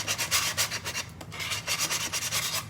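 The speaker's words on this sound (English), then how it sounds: "I'm just gonna take a regular sanding block and start to get some of that off." Rhythmic rasping strokes of a sanding block rubbed back and forth over wood, steady and close, about a dozen passes with no talking.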